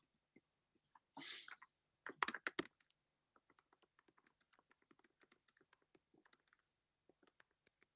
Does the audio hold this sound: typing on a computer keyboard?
yes